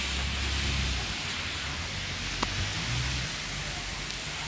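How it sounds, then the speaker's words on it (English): Steady rain pours down outdoors, a dense continuous hiss with low rumble underneath and one brief sharp tap midway, no voices. "See, this is fucking rain, and definitely you can hear this fucking rain"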